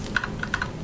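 Quick, light keystrokes on a computer keyboard, about five soft clicks in under a second, close and quiet with no talking.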